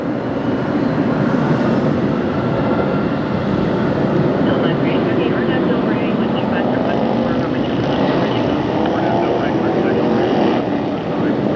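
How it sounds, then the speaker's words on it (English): Airliner jet engines roar at Los Angeles International Airport as a plane takes off, a loud continuous broadband rumble that holds steady throughout with no break, close and dominant. "You can hear the engines thrusting up and thrusting back."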